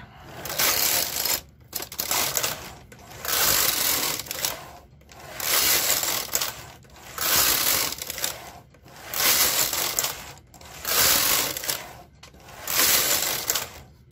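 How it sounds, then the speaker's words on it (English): A KR 260 knitting machine carriage is pushed back and forth across rows, producing a steady rhythmic sequence of loud rasping sweeps with brief pauses between passes. "we're just going to knit 5 more rows and then we'll take it off the machine"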